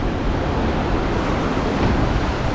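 Strong ocean waves washing into shore on a rocky Australian coastline during rock fishing, a steady broadband roar of surf with constant wind noise across the microphone and no pauses.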